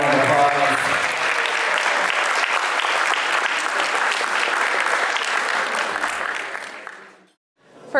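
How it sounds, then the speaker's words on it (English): Wedding guests break into loud, steady applause that fills the room for about seven seconds, then fades out quickly into silence. "One more round of applause."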